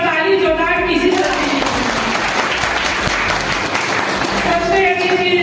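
An audience at a Holi gathering applauds loudly, the clapping sustained throughout, while a voice speaks over it at the start and the end.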